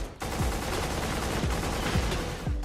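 Rapid bursts of automatic gunfire from the first-person shooter video game Black crack out loudly and repeatedly with no talk over them.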